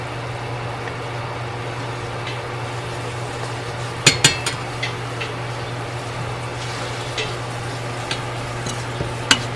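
Vegetable pickle with red chili is stirred in a pan over a steady low hum, with a soft sizzle and a few sharp utensil scrapes and clinks against the pan.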